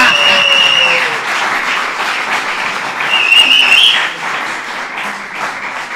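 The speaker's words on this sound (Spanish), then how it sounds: "Y ese poco de locos ahí aplaudiendo." A live show audience in Barcelona applauds steadily at close range, a dense wash of clapping that swells briefly near the middle and eases toward the end, with faint voices mixed in.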